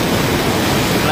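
A river swollen by tropical storm Alberto in El Salvador roars as a loud, continuous broadband rush of fast-flowing water, filling the short stretch without a break.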